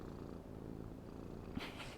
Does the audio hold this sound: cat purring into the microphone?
yes